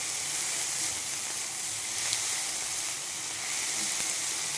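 Oil hisses and sizzles steadily in a wok as boiled eggs and bori fry, a continuous bright spitting crackle heard up close with no voices.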